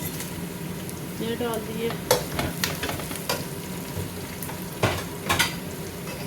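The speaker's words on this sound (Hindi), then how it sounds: "अब इनमें डालेंगे खड़े मसाले।" Whole spices dropped into browned onions frying in a pan, giving a steady close sizzle with sharp clinks and scrapes of a utensil against the pot, while a voice speaks briefly over it.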